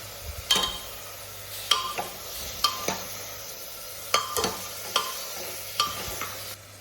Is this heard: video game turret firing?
no